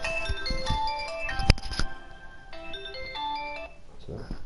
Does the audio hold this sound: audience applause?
no